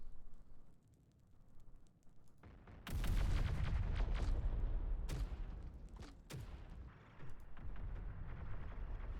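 Rocket artillery fires in the Terminator Dark Fate: Defiance strategy game, a sudden loud roaring barrage that rumbles on for several seconds, followed by scattered booming impacts and sharp bursts.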